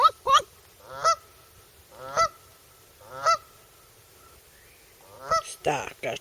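A lone Canada goose honks near an island shore, giving about six loud, distinct nasal honks spaced roughly a second apart, some doubled, with quiet pauses between and no talking.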